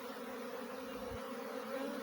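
A swarm of honey bees gives a steady, dense buzzing hum that holds even and unbroken throughout, with no voices.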